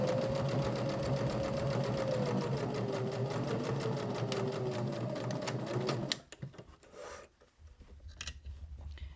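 A sewing machine stitches a pocket on a fabric journal cover with a fast, even mechanical whir, then halts abruptly near the end, leaving quiet handling noises.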